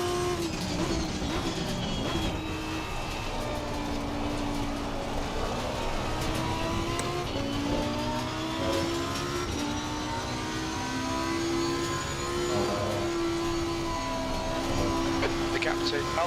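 Lamborghini race car engine droning steadily with rising and falling revs on the Nürburgring Nordschleife during a one-hour race, a continuous loud onboard engine tone with shifting pitch throughout.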